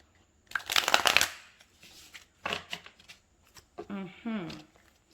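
Tarot cards shuffled in hand for a reading, giving brisk riffling bursts with pauses between them, and a voice speaking briefly near the end.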